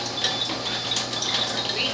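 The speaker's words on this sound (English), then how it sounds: "I'm also going to pour some acidic water as well." Acidic water from a water ionizer pours in a steady, continuous splashing stream, moderately loud and close, with no interruptions.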